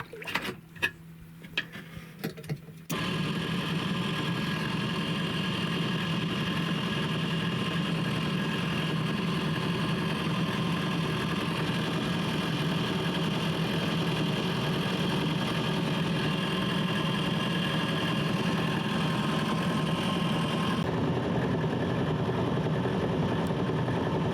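A boat engine idles steadily on a test run after repair, a continuous close hum that starts abruptly after a few seconds of small knocks and handling sounds, with no talking over it.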